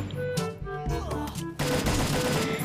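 Gunshots in the Garena Free Fire battle royale game, a few sharp reports early on followed by a dense, loud volley of rapid fire.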